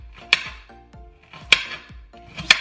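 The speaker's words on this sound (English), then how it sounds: "we'll chop up onion really quick" A knife chops an onion on a cutting board in a home kitchen, three sharp, distinct knocks about a second apart, close and fairly loud, with no voices.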